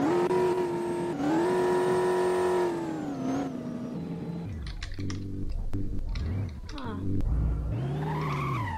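A McLaren supercar driven in Roblox, its engine whining as it revs and climbs through gears, then dropping to choppy, stuttering bursts of throttle before rising into a smooth rev again, loud and close throughout.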